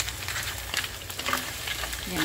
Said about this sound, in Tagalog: Tapos ito ay ilalagay na natin ang alimasag.